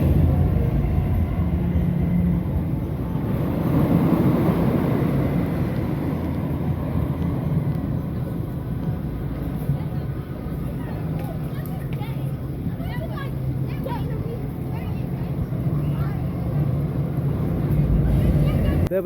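Wooden roller coaster ride on Wicker Man at Alton Towers, with a steady loud rumble and rattle of the train on the track throughout, and riders' voices mixed into the noise.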